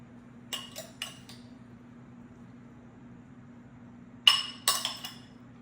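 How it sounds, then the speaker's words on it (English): Corn, carrots, green beans and peas are mixed in a bowl for chicken pot pies; a spoon gives two pairs of sharp, bright clinks against the bowl, separated by a quiet gap. "mix this corn and carrots and green beans and green peas"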